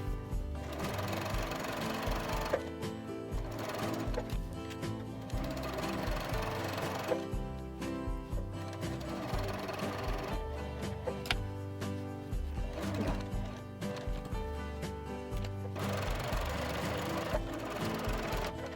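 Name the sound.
sewing machine back stitching a fabric pocket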